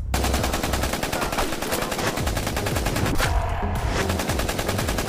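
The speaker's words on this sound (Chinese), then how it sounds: "不得不说阿强的枪法是真的准，打完一梭弹夹竟然只打中了丧尸的脚。" Rapid, sustained automatic gunfire as a full magazine is emptied at a zombie in a zombie film, loud and continuous bursts over about five seconds with no talk.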